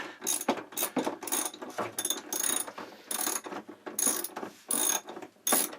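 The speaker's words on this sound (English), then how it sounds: "get the socket on, and loosen the nut" A socket wrench ratchets while loosening a nut on a boat's chain plates, a close series of about eight short, clicking ratchet bursts separated by brief pauses, with no speech.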